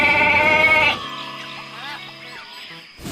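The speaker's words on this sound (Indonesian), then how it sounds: "Ini kambing teman-teman." A goat bleats loudly and close, one harmonic bleat lasting about a second, followed by quieter ambient sound and faint tonal calls.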